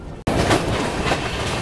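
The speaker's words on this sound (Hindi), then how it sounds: "यहाँ हमारी दुरंतो स्किप कर रही है ओंगोल रेलवे स्टेशन को" A Duronto express train runs through Ongole railway station, heard from inside a 3AC coach: a loud, steady rumble with rhythmic clickety-clack of wheels on rail joints that cuts in abruptly after a brief quiet moment.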